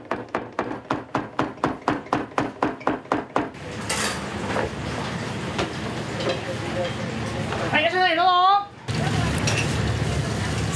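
A knife chops through folded sheets of udon dough on a board in a Takamatsu udon shop, about fourteen quick, evenly spaced strikes, followed by clattering kitchen noise.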